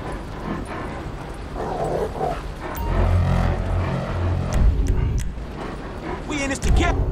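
A dog in the GTA 5 video game barks and growls in short bursts at close range, over game sounds and a rumbling engine, while someone talks over it.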